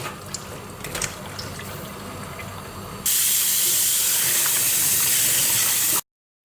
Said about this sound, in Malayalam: അതിന് ഇപ്പോൾ ബീഫ് ഞാൻ ക്ലീൻ ചെയ്തെടുക്കുന്നുണ്ട്.